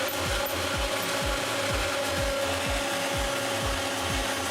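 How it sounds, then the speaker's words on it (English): A grinder works cooked soybeans for miso, producing a steady loud grinding roar broken by regular rhythmic thumps about every half second, with no voices. "Now we put the cooked soybeans through the grinder"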